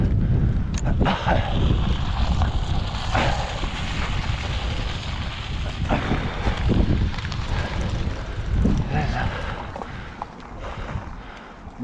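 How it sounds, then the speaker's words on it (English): A car drives past on a quiet rural mountain road in Wales near Monk's Trod and Teifi Pools, a broad engine and tyre rumble rising and fading within gusty wind noise on the microphone, with no talking. "Oh, the car comes, bloody hell."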